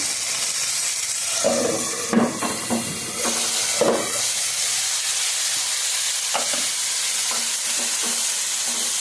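Tomatoes and tamarind sizzle steadily in a pan for a Telugu tomato and green chilli roti pachadi, a continuous frying hiss broken by a few louder stirring scrapes.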